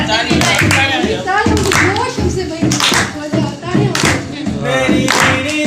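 Rhythmic hand clapping from a group at a lively wedding gathering, loud and close, keeping time under energetic singing and talking voices.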